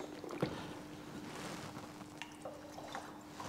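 Water is swirled around a laboratory beaker and poured into a flask to transfer the remaining acid solution, a faint, soft trickle and slosh with a small clink of glass near the start.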